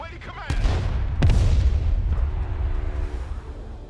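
A weapons team's gunfire in the war video game Broken Arrow: a couple of sharp, loud blasts ring out over a rumbling battlefield backdrop and are followed by fainter echoing rumble, with a voice briefly present.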